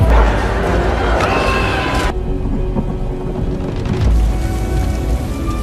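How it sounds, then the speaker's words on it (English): Rain falls over the Pride Lands in The Lion King, a steady wash of rainfall with low rumbling beneath, bright at first and then softer, with a brief swell near the end. "As rain falls over the Pride Lands"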